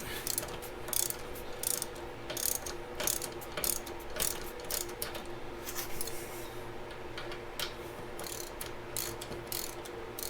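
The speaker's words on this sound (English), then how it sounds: "You got to be careful with the wrench." A wrench ratchets in repeated bursts of sharp clicking during a Progressive 412 shock install on a Harley-Davidson Iron 1200 Sportster, close and steady over a low hum with no talk.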